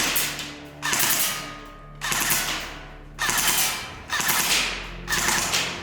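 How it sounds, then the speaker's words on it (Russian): An ICS MP5A5 airsoft AEG with a steel body fires five evenly spaced three-round bursts, each a sharp mechanical rattle of the gearbox, loud and close, with short pauses between. "может в отсечку по 3 выстрела."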